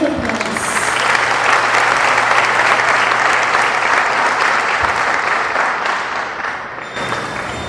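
A graduation ceremony audience gives loud, sustained applause, a dense wash of clapping hands that holds steady and tapers slightly near the end.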